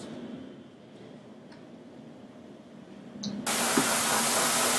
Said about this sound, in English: Let the air flow so that your needle is clean.